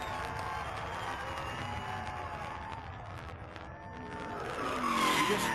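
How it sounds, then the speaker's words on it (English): Tires of a NASCAR race car skidding with the front brakes locked and rears still turning during 2004 qualifying at Infineon road course; a loud, sustained engine roar and tire scrub that swells toward the end. "The rear tires were still turning and the fronts were locked up."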